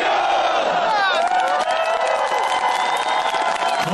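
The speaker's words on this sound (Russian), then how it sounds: "Эти аплодисменты с трибун посвящены первому олимпийскому чемпиону Казахстана, лыжнику, четырехкратному чемпиону мира Влад" A crowd in the stands at a mass ski race cheers and shouts continuously, loud and dense, with applause mixed into the roar.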